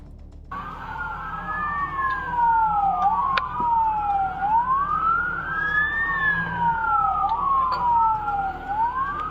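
Police sirens wail loudly and steadily, rising and falling in overlapping sweeps as several emergency vehicles sound at once, with no talk over them.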